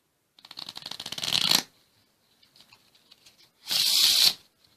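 A deck of playing cards riffle shuffled, two quick rattling bursts of cards flicking together separated by soft tapping and squaring of the deck, close and crisp.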